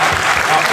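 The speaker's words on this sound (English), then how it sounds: "And round of applause for that gesture." A crowd at a gaming expo stage show applauds, a brief burst of dense clapping heard up close with voices mixed in.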